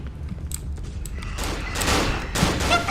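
Gunfire in the horror video game Cry of Fear, a rattling burst of close, loud shots that thickens over the second half and plays alone with no talk.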